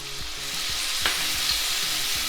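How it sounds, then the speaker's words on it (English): Beef and tomato sizzle and fry in a hot pan, a bright continuous crackling hiss with a low rhythmic scraping of stirring underneath, close and steady with no voices. "now our pan is back to that sizzling sound"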